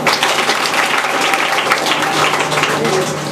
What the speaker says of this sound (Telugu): ఖచ్చితంగా పిల్లలందరూ ఒకళ్ళ తర్వాత ఒకళ్ళు వీలైన చప్పట్లు పెట్టండి.